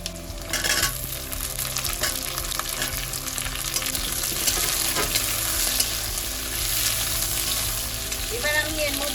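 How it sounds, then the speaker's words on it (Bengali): Pieces of pointed gourd, cut into quarters with skin and seeds left on, sizzle steadily in hot oil in a pan, a loud continuous frying hiss with a brief stir near the end. "আমি এগুলোকে তেলে দিয়ে দিচ্ছি।"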